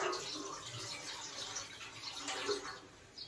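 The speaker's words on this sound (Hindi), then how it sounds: "देखिए ऐसे करके वॉश कर रहे हैं पानी में अच्छा से" Freshly harvested, home-grown vegetables being washed by hand in water, with soft continuous splashing and sloshing close by, fairly quiet and without talk.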